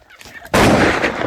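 Gunfire in a video game lands a double headshot as one sudden loud, broad blast about halfway through, after quieter game noise.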